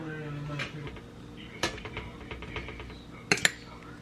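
Metal trays going into a home oven, with clinks and clattering knocks of pans and racks, a couple of bright metallic hits near the end, close and moderately loud, with a voice in the background.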